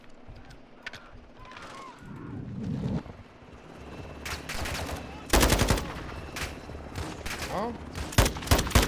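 Gunfire in a Call of Duty video game, scattered sharp shots and rapid bursts at moderate distance growing denser and louder toward the end, with a brief voice exclamation among them.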